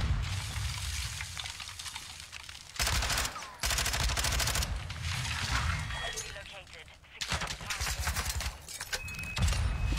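Rapid gunfire bursts in an online video game shooter, loud stretches of automatic fire broken by short gaps, with players talking over the shots.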